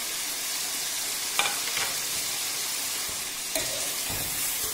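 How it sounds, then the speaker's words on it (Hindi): Chicken pieces frying in oil with added spices for korma, a soft steady sizzle with a few brief stirring scrapes, fairly quiet and close. "चिकन को अच्छे से भूनते हैं, साथ ही हम अब इसमें सारे मसाले जात ऐड कर देते हैं।"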